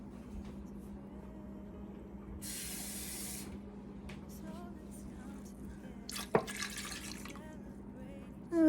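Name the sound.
water poured over pork in a pot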